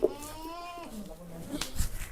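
Goats bleat on a farm that also keeps cattle, with a short wavering bleat close by near the start and rustling farmyard noise after it, while a voice can be heard faintly.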